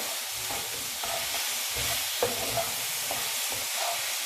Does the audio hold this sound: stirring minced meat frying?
yes